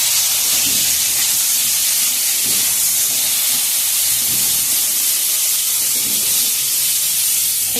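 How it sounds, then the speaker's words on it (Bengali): Eggplant coated in salt and turmeric fries in oil with a loud, continuous hiss and sizzle that fills the whole clip, steady and close. "একটু নুন হলুদ মাখিয়ে নিয়ে আমি এবার বেগুনটাকে ভাজবো।"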